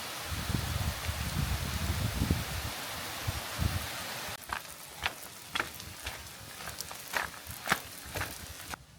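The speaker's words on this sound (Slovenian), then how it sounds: "zdaj pa z dreves dol dežuje" Rain drips down from trees along a mountain trail: a dense, hissing patter fills the first half, then thins into scattered, distinct drops tapping nearby, with faint rustling underneath.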